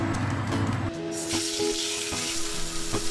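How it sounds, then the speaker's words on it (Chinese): Partridge pan-frying skin-down in hot oil in a wok, a continuous close sizzle with a few soft knocks and clatters, no talking. "烧热咗只镬，加啲油，跟住咧，我哋就可以放我哋嘅鷓鴣落去煎啦"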